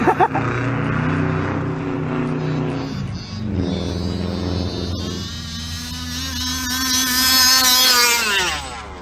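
Nitro RC car with a Novarossi RCR .25 engine and Bartolome pipe, revving loud and high, with pitch sweeping up and down through several accelerations, close, with no talk.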